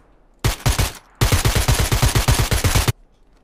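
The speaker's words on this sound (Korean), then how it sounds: "얘 나를 쏘는데?" Automatic gunfire from an enemy shooting at the player in a video game: a short burst, a brief pause, then a longer rapid volley of loud, close shots.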